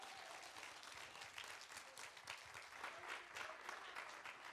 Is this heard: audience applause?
yes